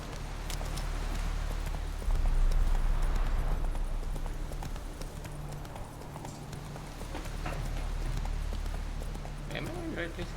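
Horse hooves pound in a steady galloping clip-clop from The Witcher 3: Wild Hunt on Nintendo Switch, fairly close and continuous over a low rumbling game soundscape, with occasional voices over it.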